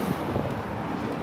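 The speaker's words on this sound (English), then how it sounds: "even right now, it's like it's really, really windy" Steady, broadband rush of strong wind buffeting the microphone, continuous and fairly loud with low rumbling gusts throughout.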